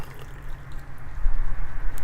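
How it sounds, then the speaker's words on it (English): Boiled turmeric tea with black pepper poured into a cup, a short soft stream of liquid splashing close by for about two seconds, with no talk. "I boiled this mixture second time for 30 seconds, and now I am going to pour"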